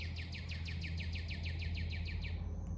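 A wild bird in a backyard gives a rapid run of repeated trilling, ray-gun-like notes, about a dozen evenly spaced pulses over a steady low hum, fairly faint and without speech.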